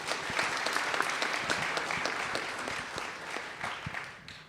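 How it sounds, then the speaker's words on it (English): Audience applause for speakers at a space-industry startup panel: steady, moderately loud clapping from a sizable room that fades toward the end, with no talking. "So let's give a round of applause to our speakers."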